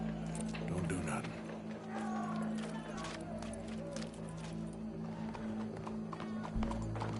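Horse hooves clip-clop in a rapid, continuous patter on hard ground, fairly close, with voices talking over the steady beat.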